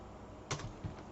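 Two quick keystrokes on a computer keyboard, close and crisp, separated by a short pause against quiet room tone.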